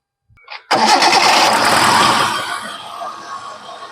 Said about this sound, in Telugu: ఇంజన్ సౌండ్ చూసుకున్నట్లయితే పెట్రోల్ వెహికల్ కాబట్టి చాలా తక్కువ సౌండ్ వస్తుంది